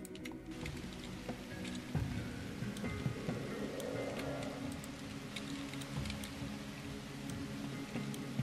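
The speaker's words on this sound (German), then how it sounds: "Glaube noch mal eine Regenwolke drüber schicken." Rain falls from a rain cloud in the city-building game The Universim as a soft, steady patter with scattered light ticks, fairly quiet throughout.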